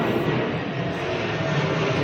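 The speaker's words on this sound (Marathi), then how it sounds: "विमान चाललं आहे मित्रांनो ते खूप आवाज करतात" A steady, loud roar of aircraft engines fills the whole stretch, constant and unbroken, with faint voices mixed underneath.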